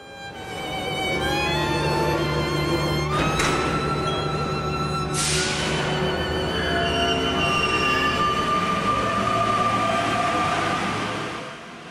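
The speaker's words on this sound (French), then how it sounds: "Bruit identique au métro de Paris." A metro train in Santiago, Chile runs steadily with a loud rumble, whining motor tones rising and falling, and occasional sharp squeals and clanks of the wheels.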